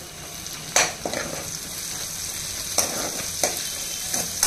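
Biryani ingredients for a chicken fry piece biryani sizzle steadily in a pan, close and with no talking. A handful of sharp stirring scrapes and clacks come through at irregular intervals.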